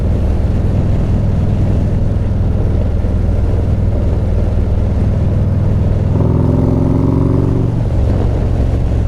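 A 2024 Harley-Davidson Street Glide fitted with a stage two kit, its engine holding a loud, steady, deep drone before the pitch climbs in a short rev.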